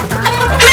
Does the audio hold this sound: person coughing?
no